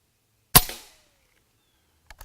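Condor SS .25 caliber air rifle firing a single sharp, loud shot outdoors with a short decaying tail, followed by quiet and a couple of faint distant knocks.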